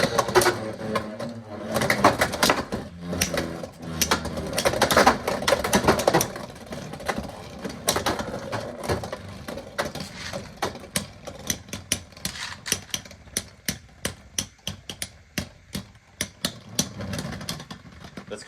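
Beyblade X tops launched into a stadium battle, a dense whirring, scraping clatter at first that thins into a rapid train of sharp, evenly spaced clicks and ticks as the spinning tops knock and rattle, close and fairly loud with no talk.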